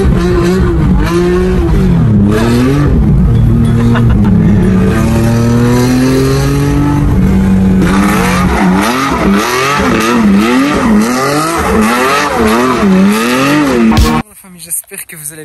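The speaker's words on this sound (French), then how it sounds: "on a une Porsche 996 GT3 préparée complètement d'une manière jusqu'aux petits oignons" A race-prepared Porsche 996 GT3 engine revving loudly and close, climbing and dropping through gears with a rising, wavering tone, then cutting off abruptly near the end; a voice talks over it.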